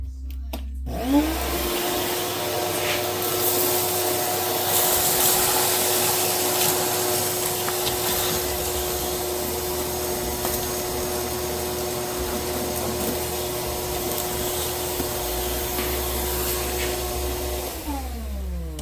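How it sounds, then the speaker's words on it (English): Close and loud, a vacuum cleaner runs in one continuous steady whine while cleaning out the wheel well of a rusty Buick LeSabre, starting up and shutting off at the ends. "Finish vacuuming out that pocket."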